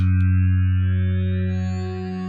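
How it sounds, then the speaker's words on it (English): A sustained synth pad processed with delay and reverb holds layered tones that swell and linger with echoing tails, fading slightly toward the end. "stretched a lot with this delay and that reverb"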